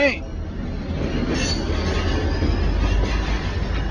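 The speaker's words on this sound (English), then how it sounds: "there's the train" A train rumbles steadily past at close range with a heavy low roar and faint rail squeal, amid outdoor noise in a small art town.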